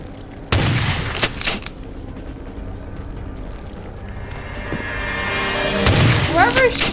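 Enemy gunfire in the VTMB Final Nights mod arrives as a few loud, sharp shots, one burst near the start and another near the end, with a quieter rumble between and a voice briefly under it.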